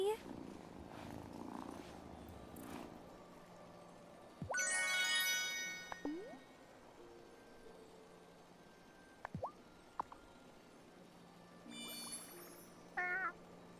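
A cat in the farming game Wylde Flowers purrs and meows, a low steady purr running under several short meows and rising chirps, with chiming game tones scattered across the scene and no talking.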